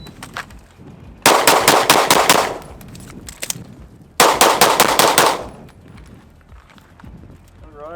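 Rapid pistol fire from a Zev OZ9 HyperComp with a metal frame during a reload drill: a fast string of loud shots, a pause for the reload with a few scattered shots, then a second quick string.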